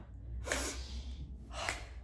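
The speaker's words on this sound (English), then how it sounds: "Sniff as you go back." Two sharp, breathy sniffing inhales, about a second apart, close and fairly quiet.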